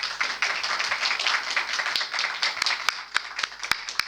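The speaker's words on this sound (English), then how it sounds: "Can you all show me how much you enjoyed it with a round of applause?" Audience at a workplace culture and sustainability panel event claps in a dense, sustained wash, with sharper individual claps standing out near the end as the applause thins.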